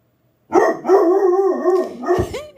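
A dog barks and howls close up indoors, one long drawn-out yowling bark followed by a shorter sharp bark, loud against an otherwise quiet room.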